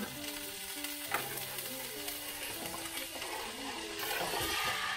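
Garlic sizzles and fries steadily in a hot pan while being stirred, a dense continuous crackle that grows a little louder toward the end, with faint background voices.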